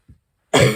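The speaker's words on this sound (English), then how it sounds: "welcoming you here with the cough" A single short, close cough rings out clearly on its own after a faint breath, from a woman stitching cross-stitch at home whose voice is wavering.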